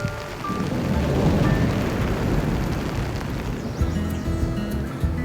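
Steady rain pours down on a campsite in Denali National Park, Alaska, with a low rumble of thunder beneath it, the downpour easing slightly toward the end.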